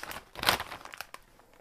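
A crinkly plastic Lay's chip bag being pulled open up close, with a loud crackling burst followed by a few smaller crinkles.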